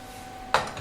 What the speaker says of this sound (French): Je me sers directement dans le plat avec cette cuillère.